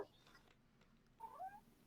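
A house cat next to the microphone during a talk show gives a faint, short meow over quiet room tone, with no one speaking.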